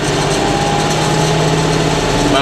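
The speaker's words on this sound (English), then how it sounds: "PTO on. Fling. I want to rev it on up to about" A tractor engine revs steadily with its PTO-driven seed spreader running for pasture reseeding, a loud continuous mechanical drone with a rising whine near the end and no talking.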